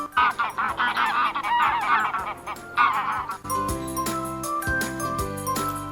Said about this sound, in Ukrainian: Гусак гальгоче. Га-га-га.